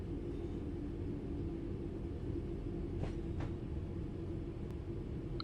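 Low, steady rumble of a train rolling through a junction in Train Sim World 5, a continuous droning bed with a couple of faint brief clicks, no talking.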